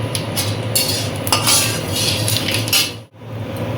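Whole cumin seeds hitting hot oil in a pan, with a steady close frying sizzle and scraping, clinking utensil noise against the cookware throughout, briefly dropping out near the end before resuming.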